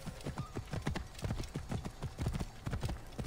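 Horse hooves gallop in the video game Assassin's Creed Origins, a steady run of loud clip-clop beats kept up over a low rumble of game ambience.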